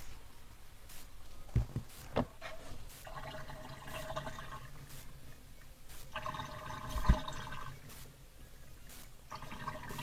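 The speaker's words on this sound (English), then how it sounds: "So yeah, I'll get this all drained out and usually squeeze the rest of the water out" Water drains out of a tub, a steady low gurgling flow with a few sharp knocks and bumps, close and moderately quiet throughout.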